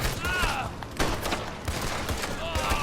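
Gunfire rattles through a Red Dead Redemption 2 Online mission, with several quick, sharp shots popping over busy game ambience.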